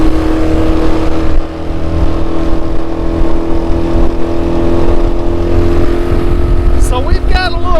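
A crabbing boat engine off the South Carolina coast powers up into a loud, steady drone with a rising throttle, close and dominant, while a voice talks over it briefly.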